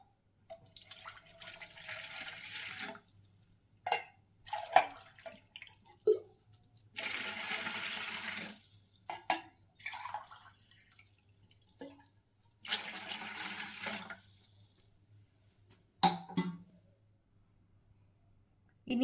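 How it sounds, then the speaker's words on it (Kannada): Water pours from a glass into a cooking pot in three separate bursts, one for each of three glasses, while making ragi porridge. The splashing is close and fairly loud, with short gaps and small clinks between the pours. "ಇವಾಗ ಪಾತ್ರೆಗೆ 3 ಗ್ಲಾಸ್ ನೀರು ಹಾಕೊತಾ ಇದ್ದೀನಿ."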